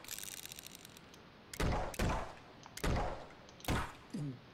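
Gunfire in the video game 1001st Hyper Tower, four sharp, loud shots spaced about a second apart, each with a short booming tail, against a quiet background.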